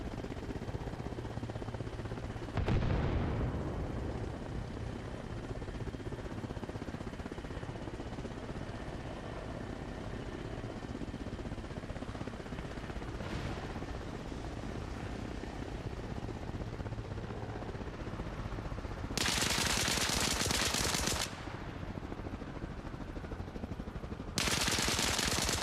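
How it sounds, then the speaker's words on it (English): Bursts of rapid gunfire crackle overhead amid a steady rumbling backdrop in the video game Arma Reforger, with a sharp blast near the start and loud sustained volleys toward the end. "Love the sound of gunfire over my head."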